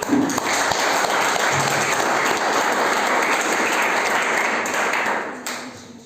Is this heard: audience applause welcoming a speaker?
yes